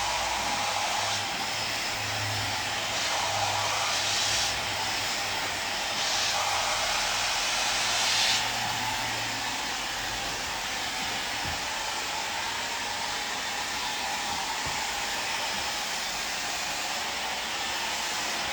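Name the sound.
blow dryer drying hair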